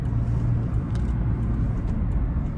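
A car drives in the rain during a driving road test at the Glendale DMV in California, heard from inside as a steady, loud engine and road rumble with a few faint higher ticks.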